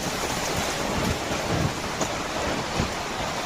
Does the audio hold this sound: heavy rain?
yes